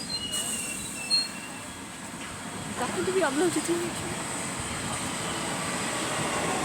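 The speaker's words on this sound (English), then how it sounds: "You can hear the tracks buzzing." A London Underground train rumbles with a buzzing hum from the tracks and a brief wavering tone, heard under a nearby voice talking throughout.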